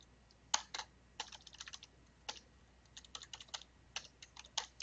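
Fingers tap on a computer keyboard in quiet, uneven bursts of clicks, close but faint, with short pauses between words and no talking.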